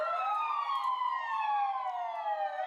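Fire engine siren from a volunteer fire brigade vehicle leading a parade of fire trucks, a loud, clear wail sweeping slowly downward in pitch, sounding close and alone.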